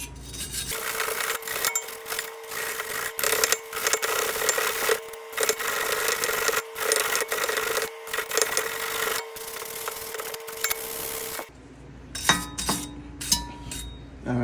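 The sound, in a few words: brushing and cleaning brake parts on a Lexus IS250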